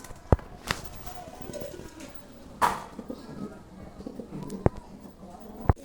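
Syrian Huma pigeons coo softly in a low, murmuring background, punctuated by a few sharp clicks and taps, with someone talking over them.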